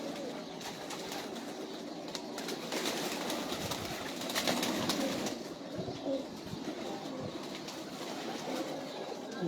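Old-breed pigeons kept on a rooftop coo softly and repeatedly, a low murmuring under steady outdoor background noise, with no talking.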